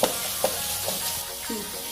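Carrot halwa made with milk and sugar is stirred in an open pan, with steady sizzling and bubbling broken by repeated scraping strokes of a spoon, close and continuous.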